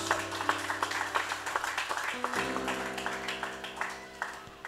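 A church congregation claps in a steady rhythmic beat over sustained keyboard music, the applause moderately close and continuous.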